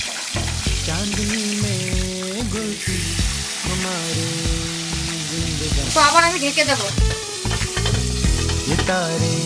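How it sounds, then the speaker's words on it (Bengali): Boal fish pieces fry in hot oil in a pan, a loud, close, steady crackling sizzle while someone talks briefly over it. "এবারে কিন্তু আমার মাছটা ভাজা হয়ে গেছে"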